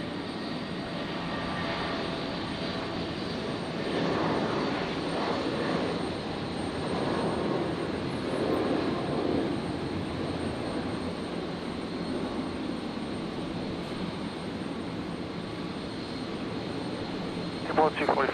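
A Jetstar jet airliner takes off at Brisbane Airport, heard as a steady, broad, distant jet roar building slightly and holding throughout, with faint speech mixed underneath.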